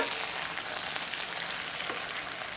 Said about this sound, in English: Then you put some okra. Just leave it fry for a few minutes.